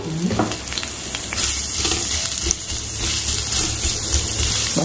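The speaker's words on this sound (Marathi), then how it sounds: "आता या तेलामध्ये आपण हा कांदा टाकणार आहे, उभा चिरून घेतलेला।" Sliced onion frying in a small amount of hot oil in a pan, a steady close sizzle with a crackling hiss that holds continuously throughout, with no talking.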